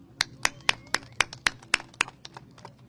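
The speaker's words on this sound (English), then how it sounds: "Let's have a round of applause," Steady, evenly spaced claps, about a dozen sharp slaps roughly four per second, from a small crowd at an outdoor press event after a court ruling on immigration raids; fairly close and alone, with no talk over them.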